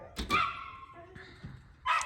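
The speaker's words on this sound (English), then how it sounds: "The cat just walked by, so now my dogs are gonna go crazy." Two or more dogs bark excitedly at a cat passing by, several close yaps and short whimpers in quick succession within about two seconds, indoors.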